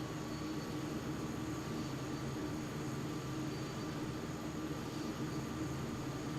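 Aircraft engines hold a steady, loud, broadband roar with a faint tonal hum as they throttle up for takeoff on the way into Tropical Storm Jerry, with no talk.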